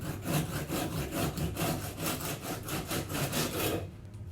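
A knife saws back and forth through a baked nutty mocha biscotti log, giving about a dozen rhythmic, gritty rasping strokes, close and fairly loud, before stopping abruptly, with no talking.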